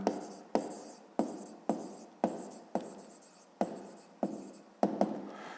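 Pen strokes on notebook paper while working a fifth-grade math exercise, about ten short scratchy bursts in a steady rhythm, each fading quickly, close and fairly quiet with no talking.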